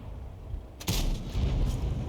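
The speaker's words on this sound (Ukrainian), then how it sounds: "По указці ціль уражено. Перший постріл, перший фраг." A heavy cannon shot from the M54 Renegade heavy tank in a video game, a single sudden booming blast followed by a rumbling tail.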